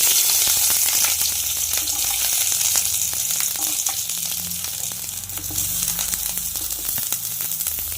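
Capsicum fries in oil in a pan, a continuous crackling sizzle with soft stirring scrapes running throughout.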